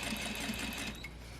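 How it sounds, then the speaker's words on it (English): A sewing machine runs steadily while stitching along the bottom of a single welt pocket, producing a continuous, even, fairly quiet mechanical whir with a rapid regular stitch rhythm. "So then I'm going to sew along the bottom"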